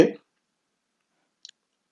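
A quick, faint double click of a computer mouse, following the tail end of a voice cut off at the start, then silence.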